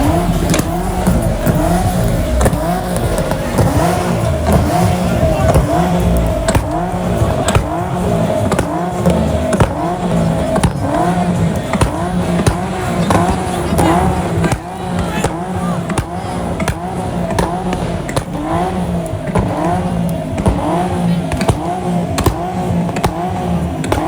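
A Nissan Z at an outdoor car meet revs its engine hard and repeatedly, a loud, sustained, pulsing roar that rises and falls in quick cycles throughout, with crowd noise and voices mixed underneath.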